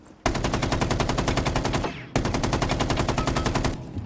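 An F90 assault rifle in the shooter game Rainbow Six Siege X fires two loud, close full-auto bursts of rapid, evenly spaced shots, each lasting about two seconds, split by a short pause.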